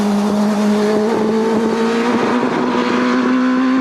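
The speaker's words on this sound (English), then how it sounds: "James Belton, who gets to the top of the hill in his beautiful little motorcycle-engined Megapin in 56 seconds." A small motorcycle-engined Megapin hillclimb car screams at high revs nearby at a 1998 Inistioge hillclimb, its steady buzzing drone rising slightly in pitch as it accelerates.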